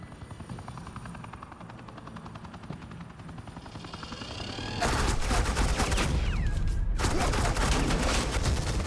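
Suppressing gunfire in the Batman The Enemy Within video game, a loud sustained burst of rapid automatic shots over a helicopter's steady rotor drone that starts first alone, then the firing bursts in sharply and continues.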